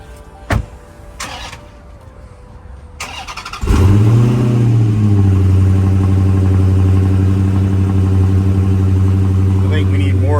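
A few clicks and clunks, then the engine of a manual Dodge Challenger Scat Pack with a 392 cranks and catches, settling into a loud, steady idle with a slight rise in revs.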